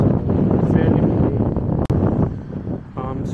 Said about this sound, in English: It's quite windy if you can't hear the wind, so fairly windy.